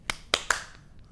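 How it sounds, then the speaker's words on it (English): Three sharp claps from a group of people come in quick succession, ringing briefly and then fading out, with no talking. "can you guys do the clap for me?"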